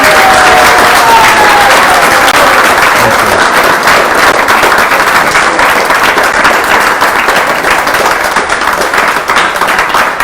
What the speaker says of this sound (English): give a warm applause for Vaisesika for always enthusing and all our desires